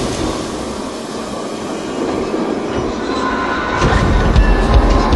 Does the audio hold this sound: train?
yes